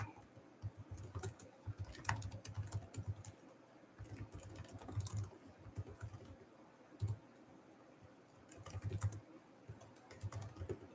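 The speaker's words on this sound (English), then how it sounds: "I have to just like type it or else I'm not ever going to type it" Close keyboard typing comes in irregular bursts of soft clicks with short pauses between them, set over a low background hum, and no voice is heard.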